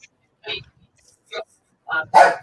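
A dog indoors lets out four short barks and yips with quiet gaps between them, the last two coming close together and loudest.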